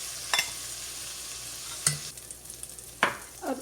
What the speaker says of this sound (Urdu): اب اسی آئل میں ہم نے اپنی باقی پیاز ڈالی ہے